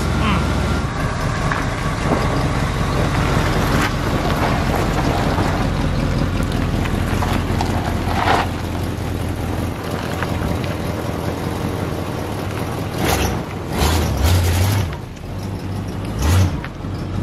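A work truck engine idles steadily after starting, a continuous low rumble with gusts of wind noise over it and some revving near the end.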